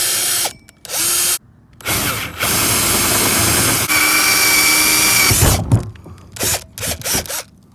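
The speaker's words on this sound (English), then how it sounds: "let's drill a hole for that for our drain" A power drill whirs in several bursts, biting into a plastic trash can with rising and falling pitch, with brief pauses between runs and no talking.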